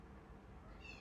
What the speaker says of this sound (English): Excuse my cats in the background.